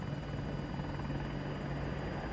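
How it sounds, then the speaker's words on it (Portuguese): A helicopter in the Battlefield 2042 video game, an Apache-style attack helicopter, gives a steady, dense rotor roar that stays loud and even from start to end, with no talk over it. "Helicóptero"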